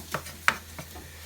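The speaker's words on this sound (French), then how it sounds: "pour continuer à émincer les oignons" Three crisp knife strokes slice through onions on a cutting board, each one a distinct, close chop spaced unevenly over about a second, with a quiet kitchen background and no talking.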